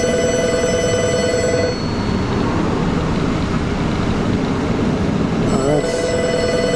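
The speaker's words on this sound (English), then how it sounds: "The phone is ringing." A telephone rings loudly in a garage where front disc brakes on a Cadillac are being done. The tonal ringing plays at the start and again near the end, with a broad noisy wash between, and no one speaks.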